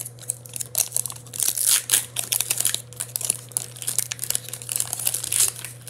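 A Pokémon Shining Fates card pack is torn open close by. The foil wrapper gives off a rapid run of crinkling and crackling for several seconds, with irregular louder bursts as it rips, and no one speaks.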